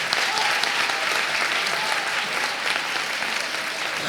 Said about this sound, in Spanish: Hola, Carlos, te vamos a dar un aplauso